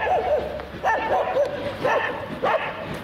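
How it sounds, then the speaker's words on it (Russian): A dog barks and yips in short bursts on a city street in central Barnaul, moderately near, with a few barks spread over a few seconds amid background street noise. "Вон там еще собака бежит. Лает, она не знает на что."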